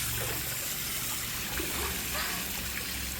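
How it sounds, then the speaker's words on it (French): A cold shower running at a relaxed stay in France, a steady soft hiss and patter of falling water throughout. "C'est une douche froide."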